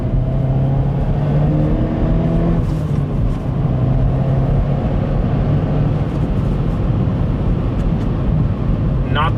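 Cabin sound inside a Hyundai Veloster N driving in normal mode: a steady, moderate engine drone with low road rumble, faint and even throughout, no talking.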